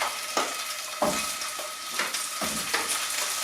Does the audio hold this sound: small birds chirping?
no